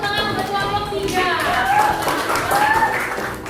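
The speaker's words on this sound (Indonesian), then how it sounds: "Boleh kasih tepuk tangan untuk kelompok 3." A school classroom of students clapping for a group presenting, a dense patter of hands under children's voices and chatter, steady throughout with a few louder swells.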